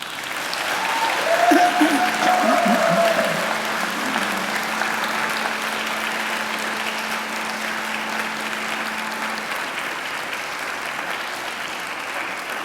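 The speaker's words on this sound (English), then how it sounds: "give them a mighty round of applause" A crowd at a university graduation ceremony applauds loudly and steadily for several seconds, the clapping gradually thinning and softening toward the end.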